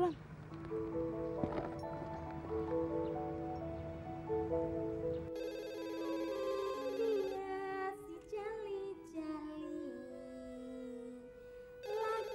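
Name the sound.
telephone ringing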